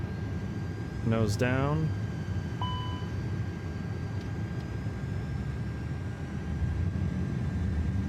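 An Aer Lingus A330's engines power up at Dublin in Microsoft Flight Simulator 2024, giving a steady, broad jet rumble and hiss throughout. A short spoken phrase and a couple of faint cockpit tones occur over it.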